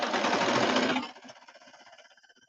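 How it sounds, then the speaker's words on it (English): A sewing machine runs along the seam of a bomber jacket, a fast, dense mechanical whir for about a second that then slows and fades into a trailing run of quieter, spaced needle ticks. "I'm placing that under my sewing machine"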